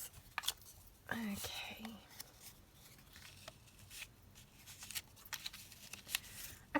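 Scissors snip a paper header piece off during a papercraft ephemera project. Several soft, close cuts are spread through the clip, with quiet talk and whispering over them.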